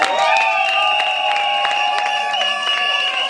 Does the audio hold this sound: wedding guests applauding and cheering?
yes